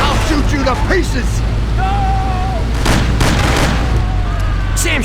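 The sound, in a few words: gunshots in the video game Mafia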